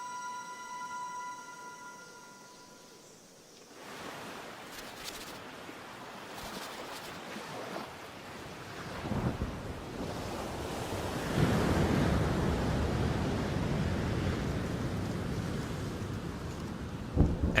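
Storm weather out at sea: after a brief tonal passage, wind and surging waves take over, roaring and gusting with heavy buffeting that builds in intensity, surf crashing in long rolling swells.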